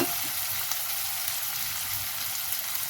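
Chillies sauté in a pan with an even, close hiss of frying oil that stays steady throughout, with a faint stir or two and no talking.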